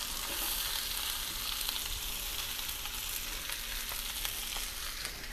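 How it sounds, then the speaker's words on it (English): A big cast iron skillet of vegetables sizzles loudly and steadily as the veggies hit the hot pan, a dense, continuous frying hiss with faint stirring. "We're going to just go ahead and dump most of our veggies in right now."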